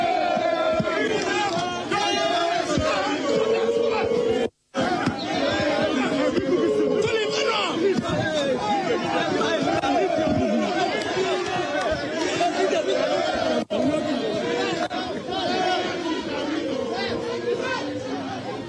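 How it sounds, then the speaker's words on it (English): A dense, uncontrollable crowd at a Ghanaian election polling station keeps up loud, continuous babble and shouting throughout, with many overlapping voices and no letup. "The crowd is getting really uncontrollable."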